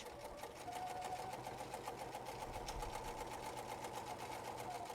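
A sewing machine back stitches a Sheera purse, humming in a quiet, steady, continuous run at close range.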